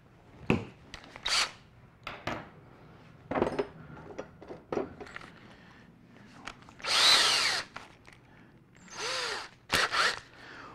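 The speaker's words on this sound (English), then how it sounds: "You've got to drill a pilot hole in it so that you remove the risk of splitting the wood." Power drill boring a small pilot hole for screws into cured solid oak hardwood, heard as several short bursts of whining drill noise with brief pauses between them, close by and fairly loud, with no talking.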